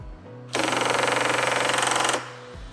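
A pneumatic pulse tool for assembly tightening hammers in a rapid, steady buzzing run of about forty close pulses for under two seconds, then stops abruptly at torque shut-off, leaving a low hum.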